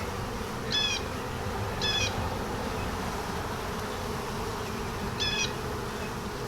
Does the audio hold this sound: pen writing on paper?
no